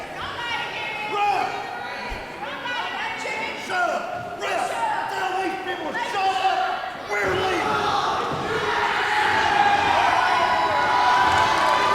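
A wrestling crowd in Palatka cheers and shouts continuously through an eight-man tag match, with slams and thuds mixed in, building louder toward the end while a commentator talks over it.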